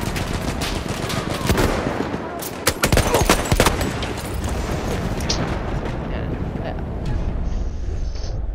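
Rapid machine-gun fire and scattered gunshots in the World War I shooter Battlefield 1, during the Red Tide operation, crackling continuously with loud bursts near the middle and a distant battle din throughout.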